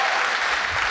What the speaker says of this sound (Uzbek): Qashqadaryodan kelgan muxlisimizga qarsak bo'lsin